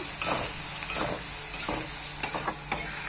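Onions fry in a pan for paneer bharta, a soft continuous sizzle with a few light scraping stirs and clicks of a utensil, close but fairly quiet, no speech.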